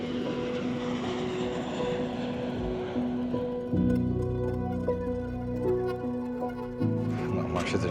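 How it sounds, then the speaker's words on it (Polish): A helicopter engine runs loud and steady with a droning tonal whine while the aircraft waits before takeoff in Nepal, near and continuous, with a person talking over it. "to jest helikopter, którym zaraz będziemy lecieli"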